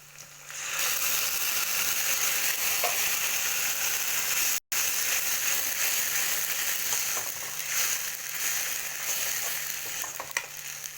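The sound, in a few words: tomato frying in pan for fish curry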